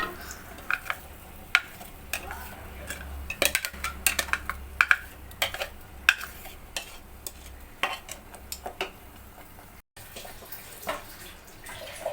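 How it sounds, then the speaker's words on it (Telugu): Onion, tomato and cashew paste going into a cooking pan for paneer butter masala, with scattered clinks and scrapes of a spoon against the pan and soft stirring and sizzling over a low background. "ఇప్పుడు ఇందులో ముందుగా చేసుకున్న ఆనియన్స్, టమాటా, కాజు పేస్ట్ని వేసుకుందాం."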